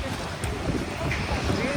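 Steady wind buffeting the microphone by the sea in Bodrum, Turkey, a broad rushing roar with low rumbling gusts throughout.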